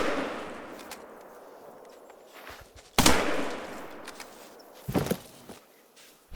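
Shotgun blasts of buckshot fired at a bear in the hunting video game theHunter: two sharp, loud reports a couple of seconds apart over a quiet outdoor ambience with faint rustling steps.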